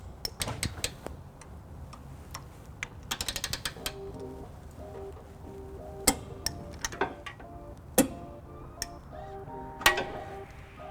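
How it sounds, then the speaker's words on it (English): Clicks of a torque wrench tightening trailer hitch bolts to 42 pound-feet on a 2000 Lexus RX300, sharp isolated ticks and a brief rapid burst of clicks over faint mechanical clatter, with no talk. "you'll hear that value reached when the wrench clicks"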